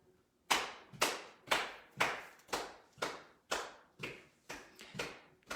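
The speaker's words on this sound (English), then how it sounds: "so clapping and marching at the same time for 30 seconds" Hands clap in a seated dance class while the dancers march in place, about eleven sharp, evenly spaced claps at roughly two per second, close and alone.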